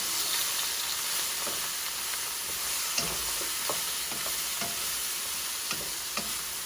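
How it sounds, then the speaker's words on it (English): Glazed salmon and mixed vegetables sizzle steadily in a hot pan while a utensil stirs them, scraping with soft irregular clicks and knocks over the constant frying hiss, close and moderately loud, with no talking. "Go ahead and stir that in."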